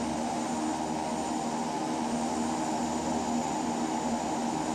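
A Royal Nepal Airlines Twin Otter flies from Janakpur to Kathmandu, its engines making a steady, loud, unbroken drone that fills the cabin without a break.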